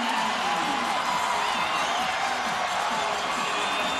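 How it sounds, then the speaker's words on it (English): A packed NBA basketball arena crowd roars and cheers in a steady, loud wall of noise after a game-winning shot against the Minnesota Timberwolves, with a commentator talking over it. "And the crowd goes wild."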